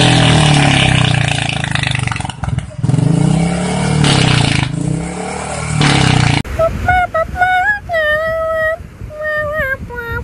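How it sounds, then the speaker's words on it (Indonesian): A wire brush pressed against a piston rod turning in a lathe gives a loud, close, continuous abrasive grinding and whirring for about six seconds, broken by short pauses, before it stops and gives way to tonal sounds. "kita cleaningnya pakai sikat kawat, terus ditempel di mesin bubut biar efektif dan cepat"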